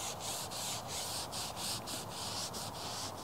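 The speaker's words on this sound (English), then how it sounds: "Just rub it into the tyre." Tyre dressing is rubbed into the tyre of a BMW E90 3 Series by hand, making a steady close scrubbing and rubbing sound in repeated strokes with short pauses between them, alone without talk.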